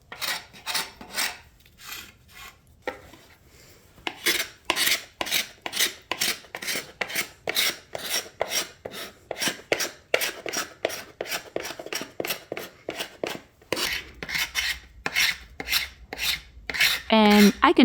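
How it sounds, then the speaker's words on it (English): A carbide scraper strips the old finish from a bentwood rocking chair in rhythmic, rasping strokes, dozens of short scrapes repeated at a steady pace close up, with brief pauses between runs and no voices. "The executive decision of removing the finish with a carbide scraper was made."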